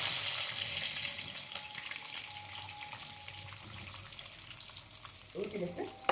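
Spices crackle and sizzle in hot oil while tempering for gongura pulihora, a steady frying hiss with faint water or utensil sounds and a few louder clatters near the end.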